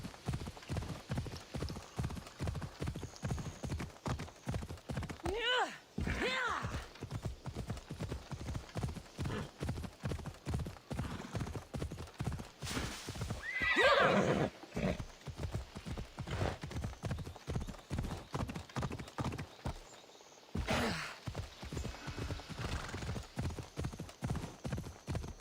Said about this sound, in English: See if we can make it over here on our horse.